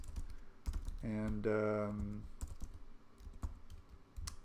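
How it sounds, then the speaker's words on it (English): Keystrokes on a computer keyboard while working with Python's csv module: scattered, fairly quiet clicks in short bursts, with one brief spoken word in the middle. "I cannot type."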